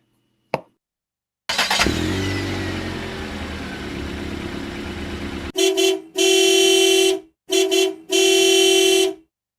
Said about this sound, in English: Governor Val revs up that van to find out where Val is going on the road.